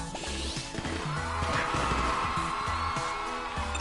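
A cartoon slap lands in LittleBigPlanet 3, a sharp smack buried in a dense mix of loud game music and effects.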